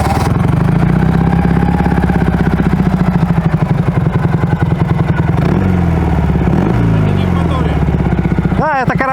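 A Ural motorcycle engine runs close by with a steady, rough mechanical drone and a faint whine from a worn gearbox bearing, its rhythm shifting midway and ending in a brief rising whir.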